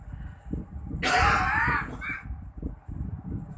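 A single harsh, raspy cough cuts in once, loud and close, over a low rumbling background.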